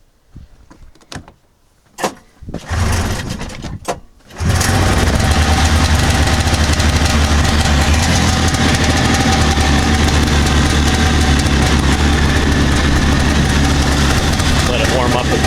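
A John Deere snowmobile engine cranks in a few short bursts, then catches about four seconds in and settles into a loud, steady idle close by.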